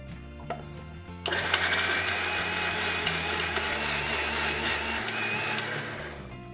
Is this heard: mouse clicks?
no